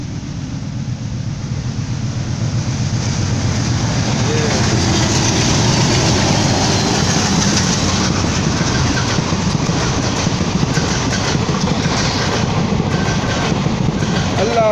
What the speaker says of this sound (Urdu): چھوٹے سے اسٹیشن کے پاس ریل گاڑی جا رہی